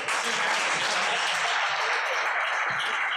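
An audience at a breakdance history lecture in Salamanca breaks into loud, dense applause that stays full and even for the whole three seconds.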